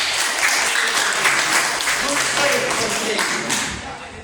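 A room of people applauds a friend, steady clapping filling the space loudly for several seconds before tapering off toward the end, with voices mixed in.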